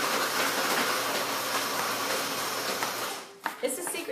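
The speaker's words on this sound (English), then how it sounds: "Blender warning. Oh, it'll be a little loud." A blender crushes ice and water for a shake with a loud, dense, continuous roar that cuts off abruptly near the end, leaving a few light knocks.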